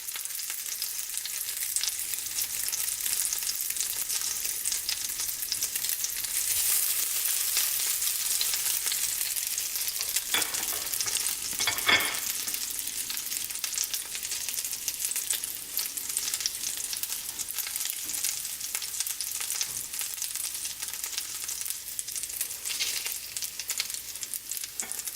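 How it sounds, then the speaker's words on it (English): Bread for Nutella French toast roll-ups sizzles in a pan on a stovetop, a steady close crackling fry with brief louder pops partway through and no talk. "You should hear sizzling."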